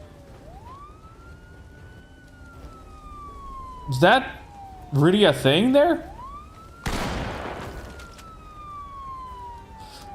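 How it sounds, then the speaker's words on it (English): A police car siren in the Project Zomboid zombie survival game wails in long rising and falling sweeps, loud and steady throughout, with a person briefly speaking over it midway. "I think we can turn off the siren."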